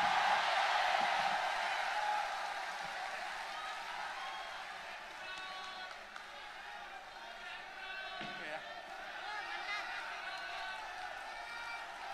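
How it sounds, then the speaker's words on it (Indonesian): A crowd at a political rally for a general in Surabaya applauds, a dense sustained wash of clapping that is loudest at the start and slowly thins, with a voice audible over it. "tepuk tangan"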